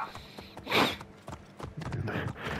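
Horse hooves clip-clopping as the animal approaches in the video game Assassin's Creed Origins, an uneven run of hoof beats growing louder with no speech over it.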